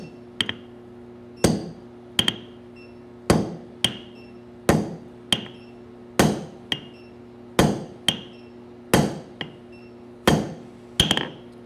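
A hammer strikes hot metal while a taper is forged at a blacksmith's anvil. About fourteen sharp, ringing blows land at a steady, unhurried pace over a faint constant hum, with no talk.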